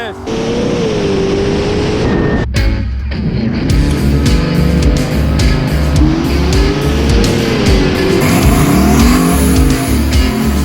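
A twin turbo Camaro drag racing down the track, its loud engine rising and falling through hard acceleration runs at close range, with a brief break midway and crowd and track noise behind.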